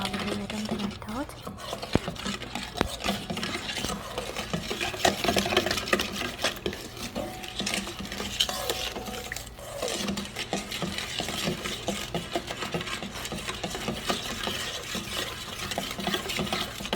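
Bread dough with added oil being stirred and mixed in a bowl, a continuous close scraping and squelching churn with dense irregular clicks, steady and moderately loud.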